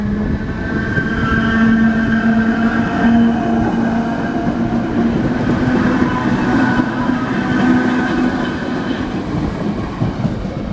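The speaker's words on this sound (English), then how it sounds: "this train was going to Dublin" DART commuter train running along the promenade at Bray, County Wicklow, a loud, close rumble with a sustained tonal hum and rolling wheel noise that holds steady before easing slightly toward the end.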